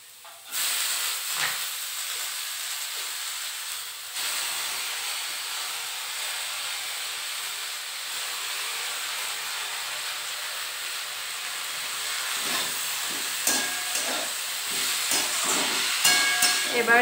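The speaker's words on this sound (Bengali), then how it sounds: "তো এখন করব হচ্ছে বেগুন দিয়ে শাক ভাজা।" Fenugreek greens and eggplant fry in a pan with a steady, close sizzling hiss, and light utensil clatter joins toward the end.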